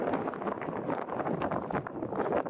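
Strengthening wind on the Lena river, heard around a sail-and-motor trimaran as gusty, buffeting rushes against the microphone at moderate level with no voices.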